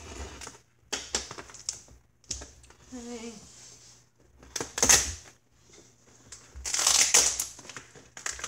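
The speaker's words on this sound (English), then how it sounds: "I'm trying to just cut away the tape" Packing tape on an overstuffed cardboard box is cut and torn away up close, with scattered crackling rips, scraping and crinkling bursts between short quiet gaps.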